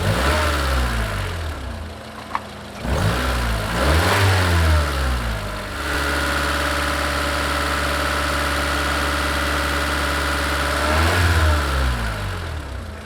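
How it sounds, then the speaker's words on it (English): Car engine with 210,000 miles on it, idling then revved repeatedly, rising and falling sweeps in pitch with a held higher-rpm stretch before dropping back, loud and close with no talk. "So by revving the engine like that, we're making there be more explosions per second inside of the engine"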